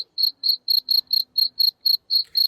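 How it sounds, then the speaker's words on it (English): Crickets chirping in short, evenly spaced bursts, about ten trills in a steady rhythm, close and clear with no talk over them. "Crickets. That's what I thought."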